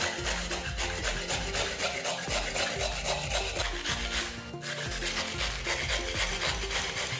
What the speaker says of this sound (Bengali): সরু ব্লেড দিয়ে গাজরটা গ্রেট করে নেব।